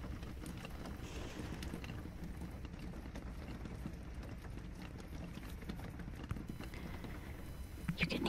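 Raindrops patter on concrete in a steady, dense hiss of light taps that continues evenly throughout, soft and close.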